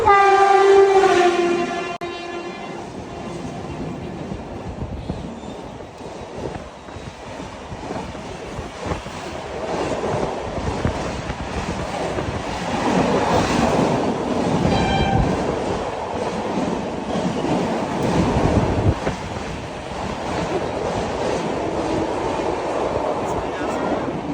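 A train rumbles past Vidyavihar station steadily, with a horn blaring near the start and a rushing, clattering roar that rises and falls throughout.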